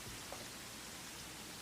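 Steady rain falling in the video game Terraria, played with the Calamity Mod, forming a continuous soft hiss with no voices.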